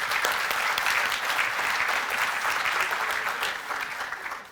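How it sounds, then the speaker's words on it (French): An audience applauding Smaïn at an event produces a dense, steady round of clapping that fades slightly at the end. "Moi, j'ai bien envie qu'on applaudisse Smaïn"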